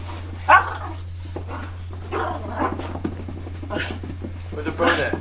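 A dog gives a few close barks and whimpering yips in scattered bursts over a constant low hum, with people talking between the sounds.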